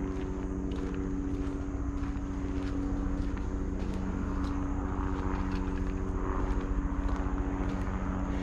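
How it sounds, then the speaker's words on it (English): A tour helicopter flies over a trail at Trotters Bluff, a steady droning engine hum with a rapid rotor throb that stays constant throughout at moderate loudness. "Here comes another helicopter tour."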